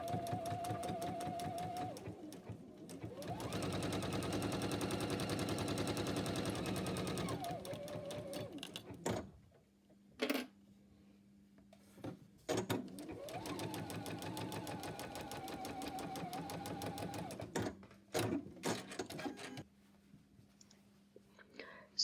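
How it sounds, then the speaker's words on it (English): Sewing machine stitching the tip of a fabric tie: two long loud runs of fast whirring stitching, each rising and settling, broken by quiet gaps with clicks and a low hum. "We'll stitch from this tip to the step."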